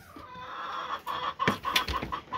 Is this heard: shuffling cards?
no